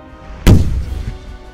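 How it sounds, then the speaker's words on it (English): A single loud, close naval cannon blast booms in a sea battle against a British fleet, a sharp heavy report followed by a rumbling decay. "many British ships were incapacitated by the overwhelming French cannon fire."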